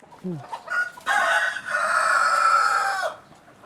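A rooster crows loudly and close, one long drawn-out call after a few short clucks, with no talking.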